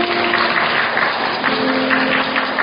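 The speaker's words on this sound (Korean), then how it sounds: "박수로 축복해 주시기 바랍니다." Congregation applauding during a Sunday church service after a prayer of blessing, a steady wash of clapping from a full room, with a low hum beneath.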